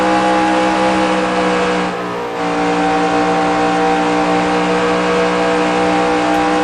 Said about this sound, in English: Here comes Denny Hamlin in his Toyota.